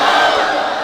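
A sermon crowd shouts the takbir together, a dense, loud roar of many voices lasting under a second with no break.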